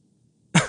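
A single short, loud throat clearing close to the microphone after a quiet moment.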